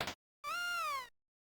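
A single drawn-out cat meow from the Chrono Trigger DS video game, clear and close, with a short burst of noise just before it and silence after.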